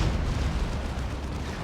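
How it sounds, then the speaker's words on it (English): Venom Cannon Carnifex shots striking a Baneblade's rear armor in Dawn of War 2, a dense, loud barrage of booming blasts and crackling impacts filling the short moment without a break. "this is a Venom Cannon Carnifex hitting rear armor now"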